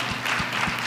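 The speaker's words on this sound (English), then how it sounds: "Can we just clap our hands for the medical workers who just been working around the clock?" An audience applauding medical workers, a short burst of steady clapping with a few distinct low thumps, some distance off.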